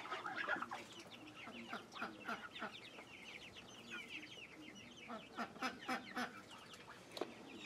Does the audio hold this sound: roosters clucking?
yes